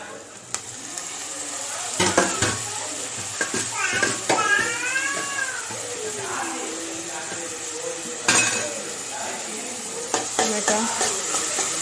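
Tomatoes frying in a pan while being stirred, with clanking spatula scrapes over a low sizzle and a short, cry-like voice or meow partway through.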